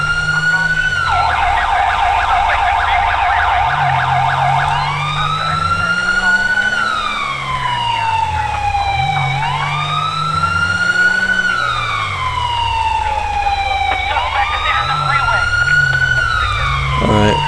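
Police and emergency vehicle sirens in the GTA V video game wail continuously, rising and falling in long sweeps with a lower siren tone cycling underneath, loud and close with engine noise in the mix.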